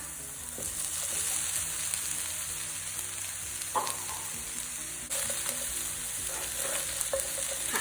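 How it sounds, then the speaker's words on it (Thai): Streaky pork with dried chili and salt stir-fries in a pan, giving a steady, close sizzle with occasional scraping and stirring knocks, alone without talk. "ผัดจนทุกอย่างหอมและเข้ากันดีนะคะ"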